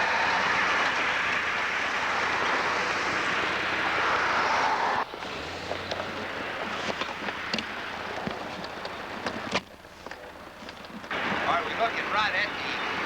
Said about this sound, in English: Looking right at the depot here, which is like a train is coming through now.